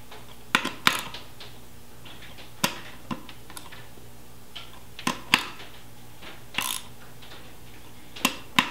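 A hand ratchet tightening a beadlock wheel bolt gives short clicking bursts, a few quick pawl clicks every second or so with quiet gaps between, close and alone.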